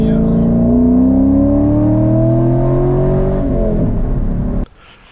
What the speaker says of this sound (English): today we're riding the new 2021 KTM 390